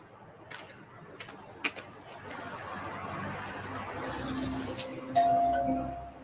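A doorbell chimes once near the end, a clear bright tone ringing out over a quiet, muffled background with a few soft knocks earlier.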